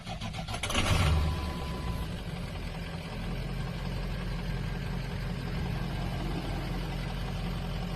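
A 2003 Ford F550 XL Super Duty diesel truck engine cranks and catches, then settles into a steady low idle rumble that continues without talk.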